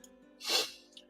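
A single short, sharp sneeze bursts out close to the microphone in a quiet room, over faint background hum, then fades quickly.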